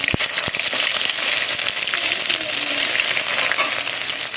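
Garlic paste hits hot oil in a home kitchen pan, giving a steady loud crackling sizzle with a couple of sharp clinks near the start, no talking.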